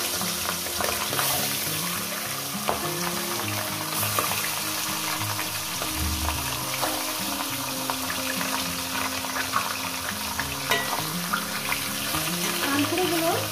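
Fish heads frying in hot oil, a steady close sizzle and crackle continuing throughout without pause, with occasional faint stirring or clinking.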